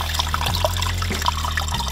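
A tiny mountain stream trickles through a Carpathian forest, a steady close babble of water with small bright splashes over a continuous low hum.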